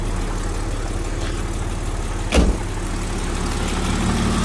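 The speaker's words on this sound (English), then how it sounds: "Compressor's spinning." A 1985 Jaguar XJ6 idles steadily with its air conditioning compressor spinning, a continuous close engine hum with one brief louder surge partway through.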